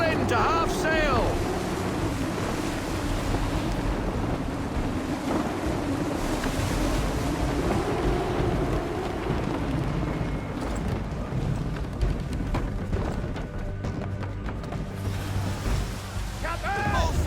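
Strong wind roars and waves surge around a sailing ship at sea in the video game Assassin's Creed III, a steady, loud wash of rushing air and breaking water that continues throughout.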